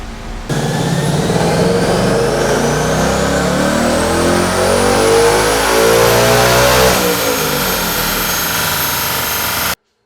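A tuned 2024 Ford Mustang GT V8 revs hard and loud on a dyno, its engine note climbing steadily in pitch through a long sustained pull, then cutting off abruptly at the end.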